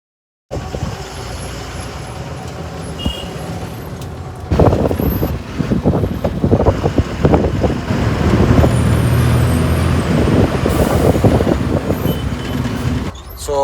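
A truck's engine rumbles from inside the cab as it drives along an Indian highway, loud and continuous, with rattling and bumps as the road noise builds.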